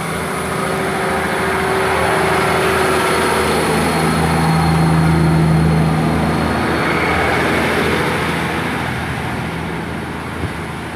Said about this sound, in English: And departing out here is 150-259 heading off to Cheltenham Spa